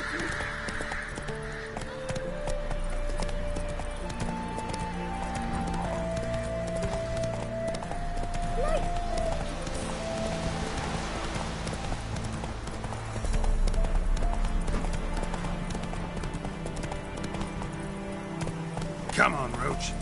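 Hoofbeats of a horse in The Witcher 3, clip-clopping steadily under game music, with a whinny and a voice urging the horse on over the ride.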